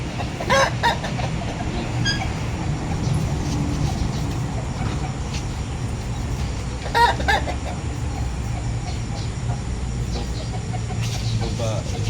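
Chickens cluck and a rooster crows nearby in a farmyard, with bursts of fowl calls over a low background rumble and people talking.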